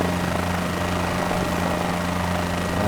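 A helicopter in a flight simulator game gives a constant, loud rotor and turbine drone with a steady tonal hum and no breaks.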